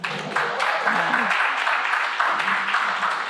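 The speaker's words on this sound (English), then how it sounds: "Can we give them a round of applause?" Audience at a Black Philly writers event at the Philadelphia Museum of Art applauding steadily for several seconds, a dense wash of clapping with some voices mixed in.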